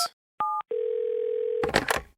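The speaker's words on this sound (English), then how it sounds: "I picked up the phone once again and finally dialed the authorities." A telephone handset gives a steady dial tone after short tonal beeps, then it breaks off into a couple of quick dialing clicks and handling noises, close and clear with no voices.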